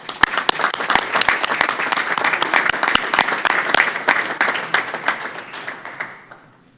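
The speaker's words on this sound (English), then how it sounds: "Let's give them a round of applause." Attendees at a Roswell City Council regular meeting applauding city department workers, with steady clapping from a room full of people that gradually thins out and fades to quiet at the end.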